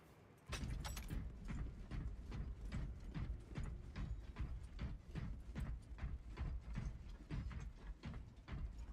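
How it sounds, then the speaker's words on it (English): Space Marine video game weapon reload with a fresh magazine: a dense run of metallic clicks, ratcheting clacks and mechanical knocks, loud and close, following a sharp opening clatter, with no speech. "Fresh magazine in."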